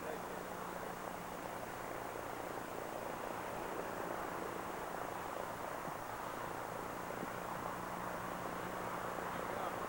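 A Bishop V4246 airplane taxis, a steady distant engine drone under broadband wind-like noise that holds level for the whole stretch without clear changes.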